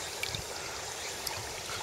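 A river runs beside a house with a steady broadband rush of flowing water, continuous and fairly close, broken only by a couple of faint ticks and with no voices.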